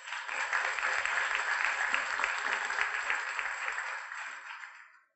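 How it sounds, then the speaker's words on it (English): A room of attendees at a medical talk on PMP and appendiceal cancer claps in a steady round of applause for the ACPMP Research Foundation, dense and even for about four seconds before tapering off and stopping. "Nice round of applause."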